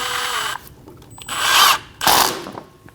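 An impact-style power tool snugs down a bolt on a control arm bracket of a Chevrolet Express 2500, starting with a short whir, then two louder, close bursts of spinning rattle separated by a brief pause.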